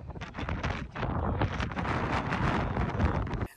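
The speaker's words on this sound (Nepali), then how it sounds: "कस्तरी हावा चल्या छ" Strong sea wind gusts across the open deck of a cruise ship sailing between Denmark and Norway, a steady loud roaring rush that buffets the microphone for several seconds before dropping off abruptly.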